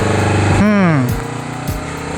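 A Honda CBR250RR motorcycle fitted with a 3Tech Evox X5 silent black exhaust revs up in a smooth rising-and-falling sweep before settling back to a steady near, loud idle.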